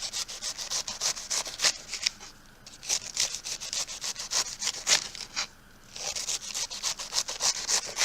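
A knife saws through a head of cabbage by hand for old-fashioned Dutch sauerkraut, a rapid, rhythmic crisp rasping of thin slices with brief pauses between runs of strokes, close and alone.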